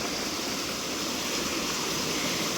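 A waterfall in the Malenadu hills near Jog Falls, heard as a dense, steady rushing roar of falling water that fills the whole span without a break.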